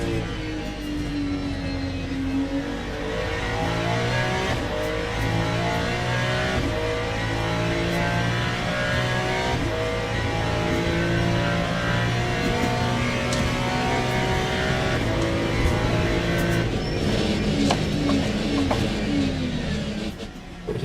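Race car in the Le Mans Ultimate sim on wet tires, its loud continuous engine note falling and rising as the driver brakes and lifts off the throttle, with no talking.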